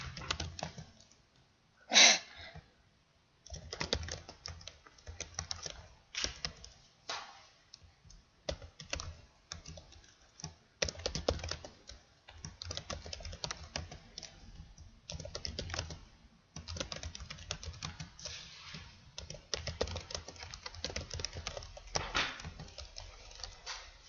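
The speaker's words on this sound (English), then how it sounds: "so I'm just typing my name over and over again." Typing on a computer keyboard, a steady run of close, crisp key clicks in uneven bursts with brief pauses, repeated over and over with no voices.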